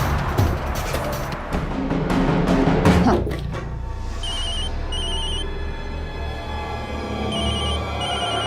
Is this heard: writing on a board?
no